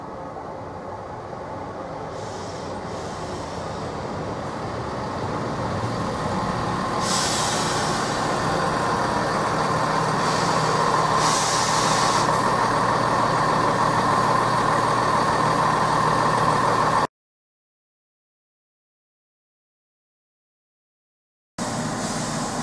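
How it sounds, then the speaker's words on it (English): Class 170 diesel multiple unit 170208 pulling into Needham Market Station on a Cambridge service, a steady loud rumble of engine and wheels building over about seventeen seconds before the sound cuts out, then resumes briefly. "we've got 17208, arriving again into Needham Market Station,"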